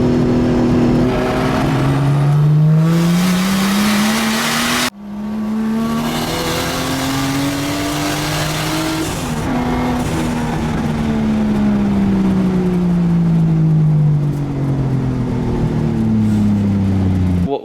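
A turbocharged 2JZGTE engine swapped into a Nissan 240sx S14, fitted with a Garrett GTX3076R Gen2 single turbo, revs loudly under boost, its pitch climbing and falling through repeated pulls, with a brief gear-change dip, recorded from inside the car.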